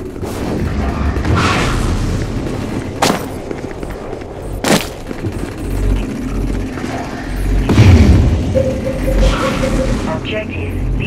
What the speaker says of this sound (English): Null cannon targeting MCC.